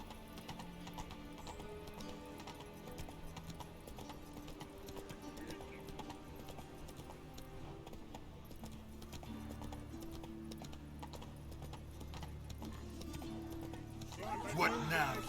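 Horse hooves clip-clop steadily through the Witcher 3 video game, a continuous mid-level trot under background music, with a brief whinny near the end.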